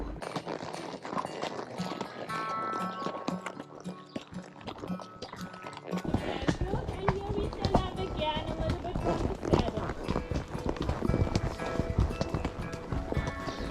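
Horses' hooves clip-clop steadily through a forest on a guided ride, with calm horses walking under continuous ambient sound and a busier, denser texture in the second half.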